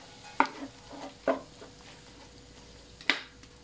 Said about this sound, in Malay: Yang ni kita saute dulu ataupun kita tumis dia, tumis kosong dia macam ni